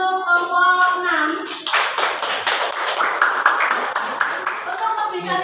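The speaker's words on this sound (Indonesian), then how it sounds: "Beri tepuk tangan untuk kelompok 6." Classroom applause for a student group: a burst of many hands clapping, preceded by a teacher's voice and continuing steadily with scattered children's voices under it.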